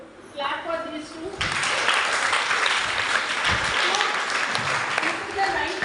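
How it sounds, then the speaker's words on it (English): Primary school children in a classroom break into applause for two classmates after a short spoken moment, the lively clapping starting suddenly and filling the room at a moderate level. "Clap for these two."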